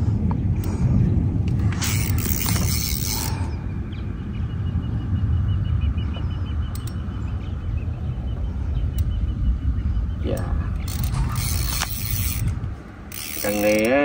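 A fishing reel's drag clicks fast and steadily as a strong fish pulls line out. The whirring ratchet runs continuously with water and outdoor noise, and there are a few brief louder bursts.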